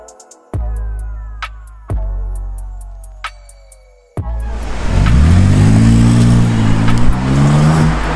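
A Renault Avantime V6 on the streets of Paris: the engine starts and revs in a few sharp bursts that die away, then settles into steady, loud running as the car pulls off, heard close up with no talk.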